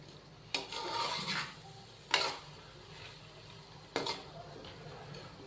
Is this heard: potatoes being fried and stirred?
yes